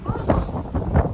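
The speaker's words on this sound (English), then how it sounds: "And it's a windy day out here." Strong wind gusting across the open outer deck near the bow of a fast-moving Disney Wish cruise ship, a steady rushing roar buffeting the microphone with brief louder surges.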